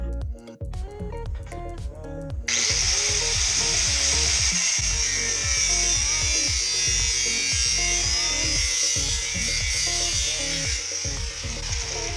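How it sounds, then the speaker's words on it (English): A power drill bores holes in the base of a racing seat for a project Mazda RX-8 race car, starting abruptly after a quiet moment and then whining loudly and steadily to the end over a faint rhythmic background. "I drilled holes in the base"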